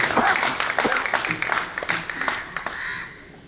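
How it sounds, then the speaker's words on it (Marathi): A crowd of former students at a high school batch reunion applauds their teachers, a dense burst of clapping that is loud at first and gradually fades, with a few voices mixed in. "एक जोरदार टाळ्या या सगळ्या शिक्षक वृंदासाठी"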